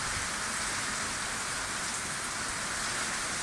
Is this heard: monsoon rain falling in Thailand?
yes